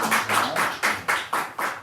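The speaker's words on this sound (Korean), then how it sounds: "우리 박수 한번 하시겠습니다." Church congregation clapping together during a Sunday morning service gift presentation, about seven quick rhythmic bursts of applause at close range with no talking.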